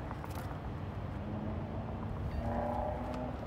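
Trains rumble steadily near an industrial facility, a continuous low rolling drone with a faint sustained tonal squeal or hum partway through, fairly loud and without talk.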